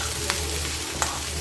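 Steady sizzle of tomato and onion frying in a pan for chutney, with a couple of brief stirring scrapes near the close and a low hum underneath, no voices.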